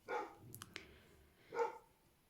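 Two bursts of dog barking in the countryside, one at the start and another a moment later, moderately distant, with a few short clicks in between and no talking.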